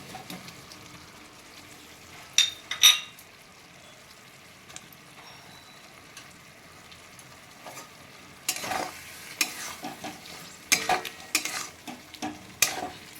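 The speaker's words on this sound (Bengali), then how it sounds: "এবার আমি পনিরটা দিয়ে দিচ্ছি" Fresh homemade paneer cubes dropped into sizzling butter masala gravy and stirred in a pan, with a faint steady fry hiss broken by sharp scraping bursts of utensil against the pan.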